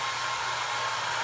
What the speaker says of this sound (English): I just don't want to blast in your ears with drying.